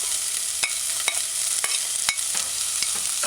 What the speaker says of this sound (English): Stir it in, stir it in.